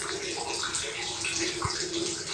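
Water from a small hillside spring flows and splashes steadily, close and fairly loud, with a gurgling trickle running through the whole stretch.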